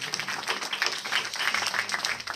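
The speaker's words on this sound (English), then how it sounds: "So let's give them a round of applause." An audience claps to thank the cameramen who filmed a religious gathering, a brief, moderately loud burst of many hands with uneven, rippling peaks.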